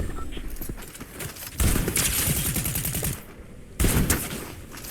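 SMG gunfire in Fortnite: dense, loud bursts of rapid shots fill the clip, with two heavier volleys, one around the middle and one near the end, over a busy game soundscape.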